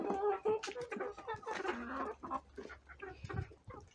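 Several roosters cluck and mutter close by in a village yard, a busy, overlapping chorus with someone talking over it.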